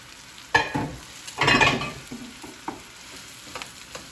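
Steak stir fry with rice sizzles loudly in a pan nearby, broken by bursts of scraping and stirring that come and go.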